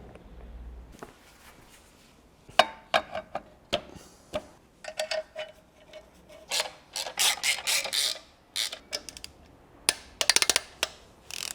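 A ratchet wrench clicks in quick bursts while new clutch bolts are tightened on a BMW E31 850i V12, close and sharp, with short runs of ticking separated by pauses.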